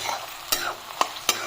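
Onions fry in hot oil with dried chillies for a chicken dish, a steady low sizzle broken by three or four sharp scraping stirs of the spoon against the pan, close and moderately loud, with no voices.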